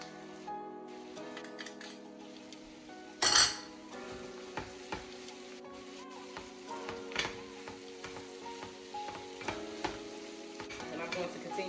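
Steak bites sizzle steadily in garlic butter with parsley, with a sharp burst of spattering and occasional stirring clinks of a utensil against the pan, close and continuous.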